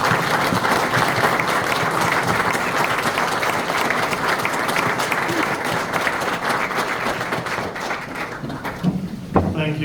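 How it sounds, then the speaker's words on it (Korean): A standing church congregation gives sustained, dense applause to welcome a guest speaker at a church dedication and founding service. The clapping is steady and full throughout, then thins toward the end as a voice briefly comes in. "큰 박수로 맞이하겠습니다"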